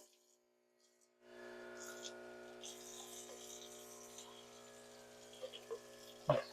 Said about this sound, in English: I'll wash it out.